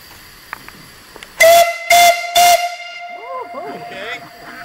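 Three loud, sharp steam whistle blasts at a sawmill, evenly spaced and each lasting about half a second, followed by faint chirping birds in the background.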